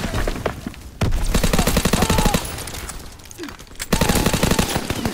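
A fighter plane's strafing run fires in Call of Duty WW2, with loud, dense rapid gunfire in several sustained bursts and crashing impacts, broken by a short quieter gap.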